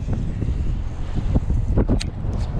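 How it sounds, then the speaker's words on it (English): Strong wind gusting over open water as a storm brews, a rough, rumbling buffet across the microphone with uneven gusts and faint splashing, no talking. "Super windy."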